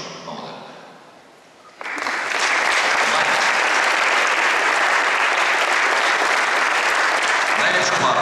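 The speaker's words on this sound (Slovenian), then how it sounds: "poskusimo proizvesti še enak aplavz" A hall audience at a New Year reception in Ljutomer breaks into loud, sustained applause that starts abruptly and holds steady with dense clapping to the end, after a brief quieter lead-in.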